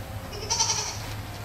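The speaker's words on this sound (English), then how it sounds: "Got a goat crying at one behind the camera" A goat bleats once behind the camera on a farm at dusk, a short, wavering cry of moderate loudness over a low steady background hum.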